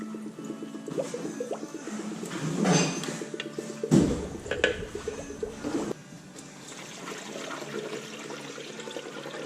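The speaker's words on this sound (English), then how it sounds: "I'm gonna run some water through it too." Water runs and splashes through a Toyota radiator being flushed, a steady close wash of liquid with bursts of heavier gushing and clatter, no voices.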